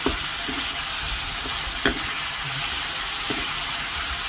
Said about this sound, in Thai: เราก็จะผัดลูกชิ้นให้นาน ๆ หน่อยนะคะ ให้เขาสุก